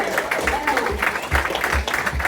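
A comedy show audience applauding and cheering for the next comedian on the lineup, heard as a short burst of clapping and crowd noise mixed with voices.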